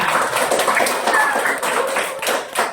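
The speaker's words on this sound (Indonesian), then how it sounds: "Tepuk tangan untuk kelompok 3" A classroom audience claps for group 3 after its presentation, with brisk, uneven hand claps at moderate loudness, nearby and under a faint murmur.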